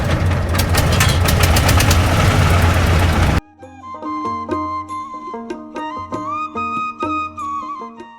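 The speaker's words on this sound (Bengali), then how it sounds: "নৌকা চলতে শুরু করলো শান্ত জলের বুক চিরে।" A motor boat engine on a calm river crossing from Andharmanik ghat to Harinaghata, first a loud rough chugging roar, then a steadier humming drone with tonal whine, close and continuous.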